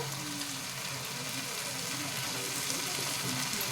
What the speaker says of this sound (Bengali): চালটা একটু ভালো করে ভেজে নেব। অল্প একটু লবণ দেব